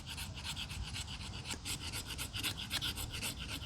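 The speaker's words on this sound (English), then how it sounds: "Scrape off some magnesium." Magnesium being scraped off a survival fire starter block, a steady run of rapid rasping strokes, close and fairly quiet, with no talking.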